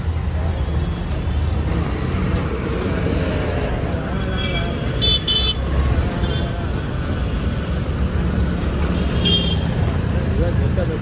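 Busy road traffic in India near a palkhi procession route, with a steady dense roar of passing cars and buses and occasional short horn toots, loud and continuous.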